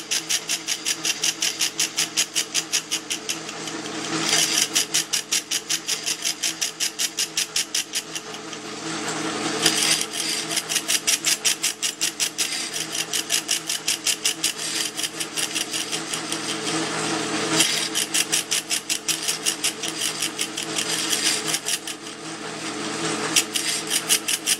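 A metal lathe turns a finger groove into a wooden screwdriver handle, giving a steady, close, continuous machining drone with a fast regular pulsing rhythm and brief swells as the tool bites, no talk.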